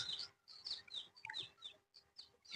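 Village chickens running about outdoors give a series of short, quick clucks in bursts with brief pauses, fairly faint and close.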